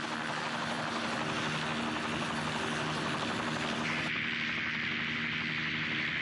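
Hiller coaxial rotor helicopter flying in 1944, a steady, dense rotor and engine drone holding at even loudness throughout, with the tone shifting slightly partway through.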